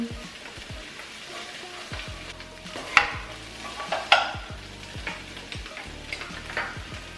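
Ingredients for spaghetti with greens, beans and tomatoes frying in a pan, a soft constant sizzle punctuated by several distinct scraping stirs and spoon knocks.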